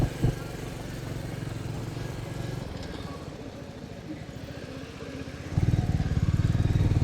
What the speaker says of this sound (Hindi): भाई देखो यार कितनी गाड़ियाँ आना जाना कर रही है अभी एक साथ में।